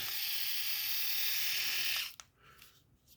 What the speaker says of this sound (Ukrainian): Є у нас ось така бритва.